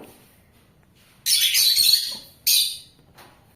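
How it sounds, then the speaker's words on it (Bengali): Pet lovebirds kept in a cage, three pairs, let out two loud bursts of shrill high chirping and chattering, the first lasting about a second and the second shorter, against a quiet room in between. "এই হচ্ছে আমার এই খাঁচায় থাকা তিন জোড়া লাভবার দেখে নাও"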